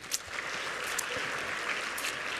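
An audience of mayors and governors at an international forum in Jakarta applauds in a steady, even wash of clapping that sounds fairly distant and subdued throughout.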